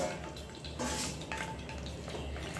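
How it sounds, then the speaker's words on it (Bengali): Marinated chicken pieces frying in hot oil in a pan for green hariyali chicken curry: steady sizzling hiss with clinks of a utensil against the pan, close and moderately loud. "তেল গরম হয়ে গেছে, এবার আমি চিকেনটাকে অল্প করে ভেজে নিচ্ছি।"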